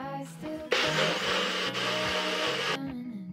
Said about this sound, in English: You just soak buckwheat or quinoa or both overnight and then rinse it and then blend it.